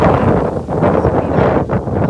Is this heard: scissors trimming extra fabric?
no